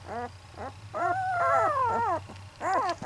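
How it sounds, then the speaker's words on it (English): A week-and-a-half-old puppy lets out a run of high, whiny growls and yips in short bursts and longer drawn-out whimpers, close and fairly quiet, with a low hum beneath. "He's growling."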